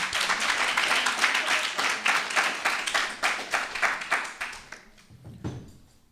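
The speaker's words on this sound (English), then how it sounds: "Clap them." An audience at a Patwa-language school debate competition claps for the debate teams, a dense and sustained round of applause that stays loud and even, then thins out and fades over the final second.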